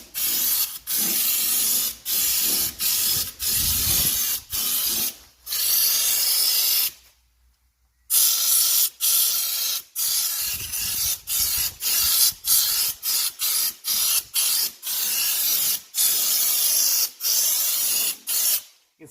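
Underseal underguard, a tar-like coating, hisses from a spray gun onto a car underside in repeated short bursts of varying length separated by brief pauses, close and loud, with one longer gap midway.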